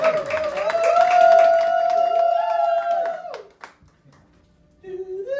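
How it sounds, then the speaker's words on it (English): Audience at a bookstore conspiracy night claps and cheers, with a sustained whooping voice riding over scattered nearby claps for about three seconds before it fades to near silence and a voice returns. "get y'all's lovely hands clapping and get some noise together, please"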